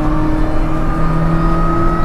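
A Mini Cooper S engine drones steadily with a strong harmonic hum under throttle, heard close from inside the car for the whole stretch, with no talking.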